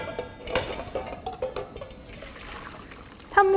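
Blanched seafood set in a metal sieve to drain while making seafood nurungji-tang: close clinks and knocks of the sieve and pans over a light trickle of water, ending in a brighter clatter, with no talking.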